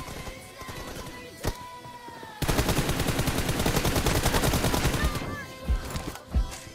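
Rapid automatic gunfire in a 1v1 team deathmatch video game, with a few single shots followed by a sustained loud burst of fire lasting several seconds, then scattered shots.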